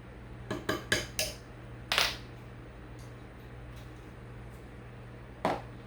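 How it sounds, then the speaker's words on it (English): Cake batter stirred in a bowl with vanilla extract mixed in, giving a few close, sharp utensil clinks against the bowl early on, then quiet, then one last scrape-and-knock near the end. "And I'm going to stir."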